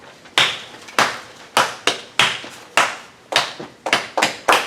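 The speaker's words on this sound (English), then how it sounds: "I'm going to clap a simple rhythm, and I want everyone to clap along with me" Sharp hand claps ring out close and loud in a simple rhythmic pattern, roughly a dozen in all, some grouped in quick pairs, with a short reverberant tail after each.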